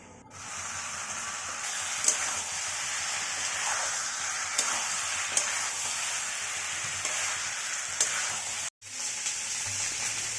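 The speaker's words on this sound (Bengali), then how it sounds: "আর এই যে মশলাটা কষানো হচ্ছে" Spice paste frying in a pan for a fish curry, a steady close sizzle with a few sharp crackles and a brief cutoff near the end, with no voices.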